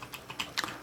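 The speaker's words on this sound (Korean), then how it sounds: "키를 누를 때 그 반발력이나 그 힘, 그 소리 같은 것도 부드럽게 들려서" A short burst of typing on a Logitech G810 Orion Spectrum mechanical keyboard, several quick uneven keystrokes clicking softly and close by, with no voices.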